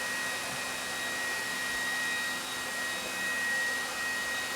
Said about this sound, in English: We'll just rewind this back to the beginning.